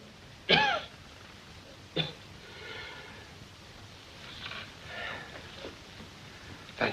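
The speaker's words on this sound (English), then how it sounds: "Suppose you wait till he quits coughing." A man coughs harshly a couple of times up close, then softer throaty coughs and breathing follow in a quiet room.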